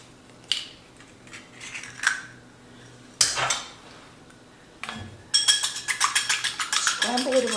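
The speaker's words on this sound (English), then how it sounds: "Scramble it around and paint it onto the dough." An egg being scrambled in a bowl with a utensil: a few clinks and taps, then a burst of rapid, rhythmic clinking of metal against the bowl, close and clear.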